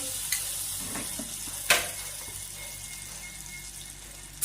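Spice paste with black cumin, turmeric, salt, chopped tomato and chili powder sautéing in oil in a wok, a soft steady sizzle with occasional sharp clinks of a stirring utensil, no talking.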